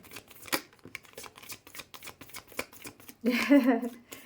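Tarot cards riffle in a brief shuffle near the end, following a stretch of soft talk.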